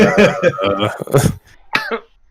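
Someone coughs a few times, close and fairly loud, with throat clearing mixed into the fits and a final cough after a short pause.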